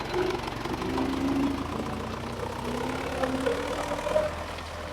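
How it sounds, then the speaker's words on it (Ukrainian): A van engine running while driving on a farm road, a low steady droning hum with mild vibration and slight swells, fairly close and continuous. "Я з татом бусом їду"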